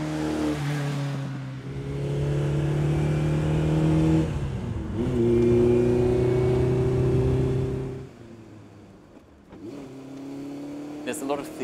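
A Lancia 037 Group B rally car engine revs and pulls through gears, with a supercharger whine layered over the engine note. Pitch climbs, drops at a shift, then climbs again before easing off. Loud and close, from inside the car.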